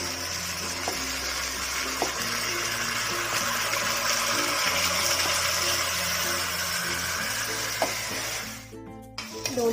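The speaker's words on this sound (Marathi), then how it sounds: "दोन 3 मिनिटं आपण छान याला परतून घेऊया" Washed rice with bay leaf being sautéed for chicken biryani gives a steady close frying sizzle with soft stirring scrapes throughout, fading near the end.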